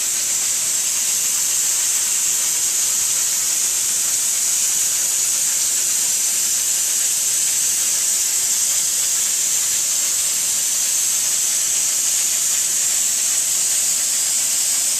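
An HVLP spray gun sprays pottery glaze in steady bands, producing a loud, continuous airy hiss that holds level for the whole stretch with no talking.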